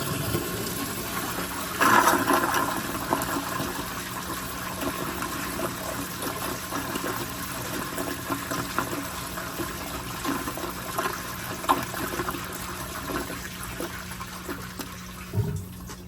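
A 1978 American Standard Glenco 4.5 gpf toilet flushes slowly on low water pressure: a long, steady rush of draining and refilling water runs for about sixteen seconds with no talking.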